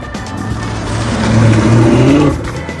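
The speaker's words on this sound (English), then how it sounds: "now that the Charger actually makes a little bit of noise when you give it full throttle" Dodge Charger police car with a modified exhaust revving hard at full throttle, a loud, close engine roar that climbs in pitch, peaks, then eases back down.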